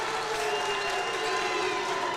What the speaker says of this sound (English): As the crowd is getting into it, led by Tevin Norman